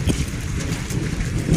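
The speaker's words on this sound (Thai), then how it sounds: "ฝนตกพอดีแข่งฝนมา" Steady rain falls in a rural village, a dense even hiss and patter with low rumbling wind-like noise throughout, fairly loud and continuous with no talking.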